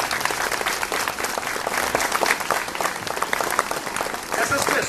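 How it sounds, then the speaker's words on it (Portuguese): An audience gives warm applause, dense continuous clapping from many hands that holds steady and loud throughout, without a break. "eu gostaria de pedir a vocês uma calorosa salva de palmas"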